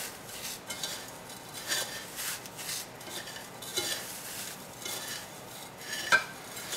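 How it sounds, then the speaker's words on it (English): Hands rub and roll panko breadcrumbs with grated cheese in a bowl for a garlic jalapeno crisp topping, a soft, steady crumbly rustling with light scrapes, close and quiet, with no talk. "roll the breadcrumbs through your fingers. That'll grind up some of the cheese, but that's really going to mix everything for you."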